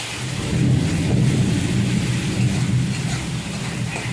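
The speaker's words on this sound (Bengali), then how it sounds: "খুব বৃষ্টি হচ্ছে মেঘ করেছে মেঘের খুব ডাক মেঘ গর্জন করেছে" Heavy rain pours steadily while deep thunder rumbles continuously underneath, loud and close, with no voices.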